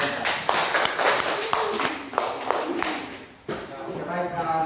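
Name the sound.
students applauding in class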